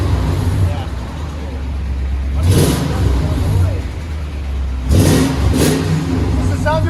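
A Toyota Tundra 4.7L V8 with aftermarket exhaust idles with a low rumble inside the cab, then swells in two short revs, one near the middle and a stronger double blip near the end.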